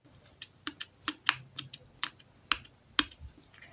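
A paper origami pop-it fidget toy being pressed, a series of sharp, quiet clicks and pops at an irregular rhythm, close up with no voices.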